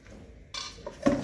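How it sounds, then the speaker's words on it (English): Water is poured into flour in a bowl for a small batch of bread dough, a short splashing pour that follows a brief quiet start and ends in a louder gush. "Gonna add some water."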